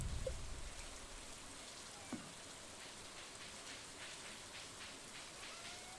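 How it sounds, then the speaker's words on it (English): Steady rain falls at night in the modded farming video game Stardew Valley, a soft, even hiss of drops that continues unbroken and fairly faint throughout, with no voices. "tonight's a rainy night"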